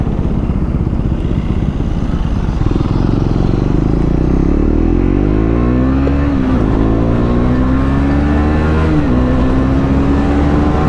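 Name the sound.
superbike passing by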